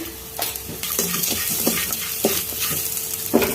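Chana dal and cashews sauté in a pan, giving a loud, close sizzle with repeated scraping stirs and soft clinks at an uneven rhythm.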